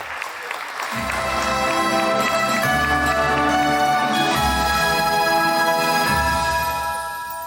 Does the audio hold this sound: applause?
yes